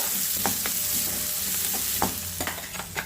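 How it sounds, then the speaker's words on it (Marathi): Onion frying in oil with cumin for a Kolhapuri whole masoor curry, a steady close sizzle broken by several sharp clicks and scrapes of stirring. "आणि त्यानंतर कांदा, कांद्याला जरा व्यवस्थित भाजून घेणार आहे तेलामध्ये"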